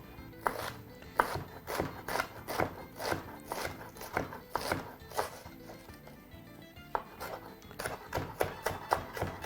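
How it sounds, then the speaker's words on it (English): A knife chopping vegetables into small pieces on a wooden board for a carrot coconut stew, rapid sharp taps in uneven bursts, close and clear. "Now we'll proceed to chop those into some very small sizes."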